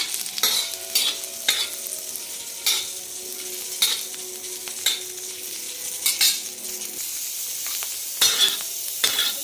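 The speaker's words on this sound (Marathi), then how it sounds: "पटकन भाजला जातो खोबरं, काही वेळ लागत नाही याला" Dry coconut roasting in a little oil while being stirred for a mutton rassa, a close crackling sizzle under repeated scraping strokes of a spoon against the pan, steady and loud.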